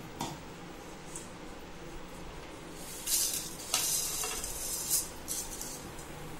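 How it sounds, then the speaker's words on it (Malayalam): Vermicelli roasting in a pan with a little oil and ghee, soft continuous sizzle with scraping stirs and a few sharper utensil clinks against the pan, fairly quiet, no voices. "റവ വറുത്തെടുത്തിട്ടുണ്ട്, അതിന് സേമിയ കൂടി നമുക്കൊന്ന്"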